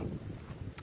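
Wind buffets a microphone outdoors in a small meadow during metal detecting, giving a short, continuous, close rumbling roar with no other sounds.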